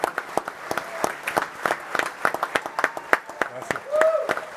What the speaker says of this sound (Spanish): Vamos a darle un fuerte aplauso a estas cuatro leyendas.